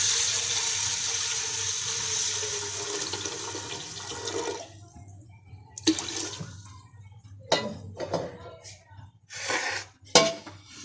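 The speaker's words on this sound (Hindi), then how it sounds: "अब इसमें पानी शामिल कर दें।" A steady rush of water pours into a metal pot of whole mung lentils for several seconds, then stops, followed by clinks and knocks of a spoon against metal.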